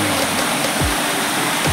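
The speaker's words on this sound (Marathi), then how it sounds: "इकडे छोटे छोटे धबधबे आहेत असे रस्त्याला. वरून डोंगरातून येणारं पाणी" Small roadside waterfalls run down from the hills near Murud, a loud, steady rush of falling water with a few brief low bumps, close by and alone.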